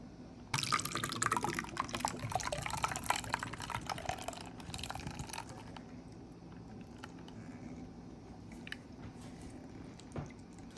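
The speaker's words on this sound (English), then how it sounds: "So I can add the milk and it'll blend easy." Milk poured into a pot of macaroni and cheese, a close, quiet liquid pour and splash lasting several seconds, followed by softer drips and light clinks as it tapers off, with no talking.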